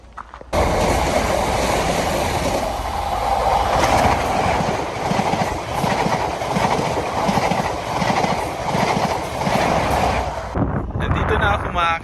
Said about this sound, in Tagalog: Kaya, hintayin natin yung train.